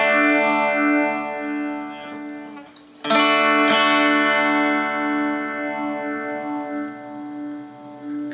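Electric guitar played through an Ibanez PH7 phaser pedal with its level control being adjusted: sustained, sweeping chords ring out loudly, with a sharp fresh strum midway and a slow whooshing phase swirl.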